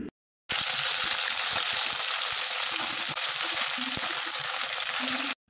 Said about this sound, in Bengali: চিকেনগুলো ছেড়ে দেবো, আর চিকেনগুলো একটুখানি হালকা করে ভেজে নেব।